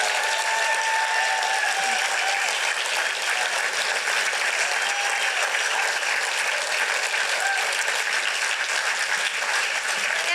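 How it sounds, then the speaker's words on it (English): Audience applause at a PechaKucha Night in Burlington for the evening's presenters, a dense, even clapping from a large crowd sustained for about ten seconds without a break. "Let's do one more just giant round of applause for everybody who presented tonight."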